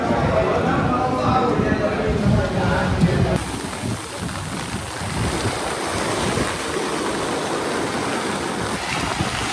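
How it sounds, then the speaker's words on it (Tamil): Rough sea surf pounding the Jeeva Nagar coast, a loud continuous wash of crashing waves with heavy wind buffeting the microphone; the roar eases slightly midway but stays dense throughout. "ஜீவா நகரில் கடல் சீற்றம் அதிகரித்து காணப்படுகிறது"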